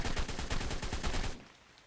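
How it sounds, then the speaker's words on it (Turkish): Rapid automatic gunfire from a weapon in the video game ARK, a dense burst of repeated shots lasting over a second, then cutting off to near silence. "Bu da mermiyi boşaltıyor, charger'ı boşaltıyor, vurmuyor ya bu silahtan."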